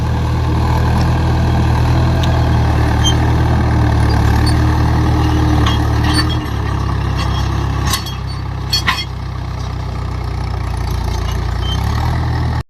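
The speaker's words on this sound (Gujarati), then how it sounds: "હવે ટ્રેક્ટર અત્યારે હકાઈ ગયું" A tractor engine runs loud and close, holding a continuous deep rumble with a steady idling drone. The level dips slightly partway through, and no voices are heard.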